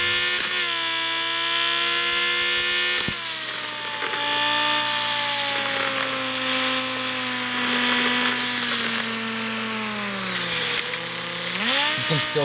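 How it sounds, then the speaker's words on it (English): A lowered Bentley's front bumper scrapes along the ground while the car moves, a steady grinding, rasping drone with harsh clicks near the start and a brief surge near the end. "You can still hear that front bumper scraping at some parts."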